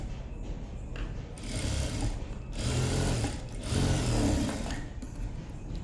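Sewing machine running steadily as it sews a second line of stitching over an existing seam in fabric, a close rapid mechanical whir and clatter that rises and eases in bursts over several seconds, with no voices.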